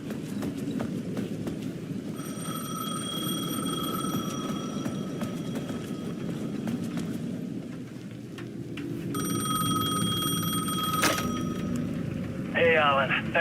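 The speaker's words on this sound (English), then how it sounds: "The payphone at the edge of the plaza was ringing again." A payphone in the video game Alan Wake 2 rings in two long electronic bursts separated by a pause, over a low ambient rumble, followed by a short metallic rattle at the end.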